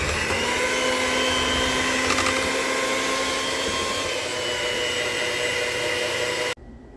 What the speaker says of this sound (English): We're whipping the potatoes.